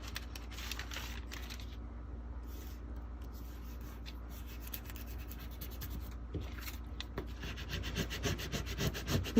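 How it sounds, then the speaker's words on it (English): Steady rubbing and scraping as a glitter vinyl decal is burnished hard onto a cake topper, a continuous close friction sound with small scratchy bursts, growing slightly louder toward the end. "You're gonna have to burnish this pretty hard because this glitter is not exactly a flat surface."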